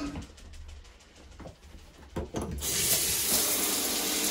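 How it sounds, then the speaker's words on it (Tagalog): Water from a hotel bathroom shower bursts on and runs in a loud, steady broadband hiss, following a few seconds of quieter room sounds. "Let's check the shower."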